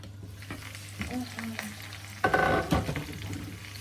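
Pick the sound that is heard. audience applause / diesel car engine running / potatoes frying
potatoes frying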